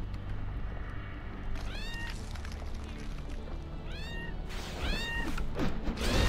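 A cat gives several drawn-out, rising meows spaced a second or two apart, loud and close over a busy background of music and game sound.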